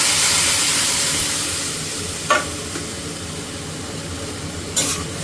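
A ground spice mixture poured into hot garlic tempering sets off a loud, continuous sizzle and hiss that eases slightly over time, broken by two brief sharp crackles near the middle and end.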